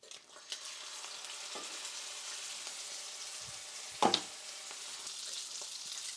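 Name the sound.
New York strip steak searing in a scalding hot pan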